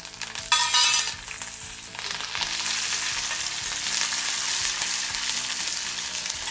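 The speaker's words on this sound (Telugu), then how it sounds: "కరివేపాకు వేద్దాం. కరివేపాకు కూడా వేగాలి కదా" Curry leaves dropped into hot oil for star fruit pachadi, a sharp burst of crackling spatter at first that settles into a steady, close sizzle.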